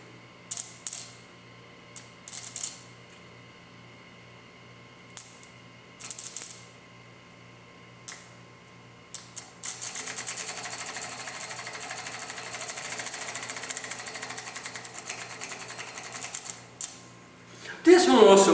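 A commutatorless DC motor runs at about 120 RPM, first with short bursts of mechanical whirring, then a continuous rapid ticking clatter, with speech heard throughout.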